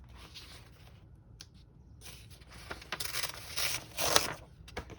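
Scissors snip through paper while a planner is being cut out, a series of short crisp cuts and rustles that grow louder and quicker toward the end, close by with no talk.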